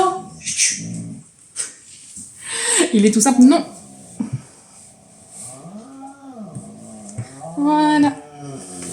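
A husky makes drawn-out, wavering howls and moans, close and loud, with someone talking around the sounds.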